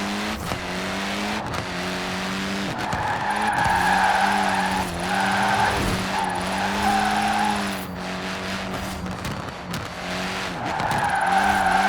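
A 1969 Ford Mustang Boss 302 drifts uphill in Forza Horizon 4, its tires squealing in a steady, sustained screech over a loud, droning engine that rises and falls slightly throughout.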